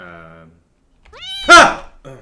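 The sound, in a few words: cat meowing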